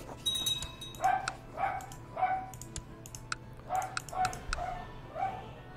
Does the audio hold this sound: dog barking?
yes